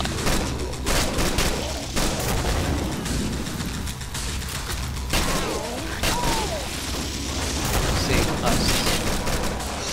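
MP7 submachine gun firing in a video game, dense continuous bursts of rapid gunfire with other game effects layered in, loud and steady throughout.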